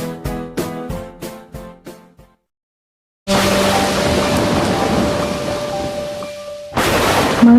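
A heavy rain and thunder sound effect. After a few plucked musical notes and a short silence, a loud, dense wash of pouring rain with rumbling fills the rest, swelling again near the end.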